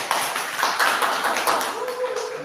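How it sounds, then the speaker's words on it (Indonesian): An audience in a classroom session on positive school culture bursts into applause, a dense spread of many hands clapping at once that holds steadily from start to finish. "Tepuk tangan."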